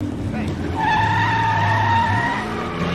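Car from Ferris Bueller's Day Off driving away with tires squealing, a loud sustained screech over a revving engine, close and continuous for a few seconds.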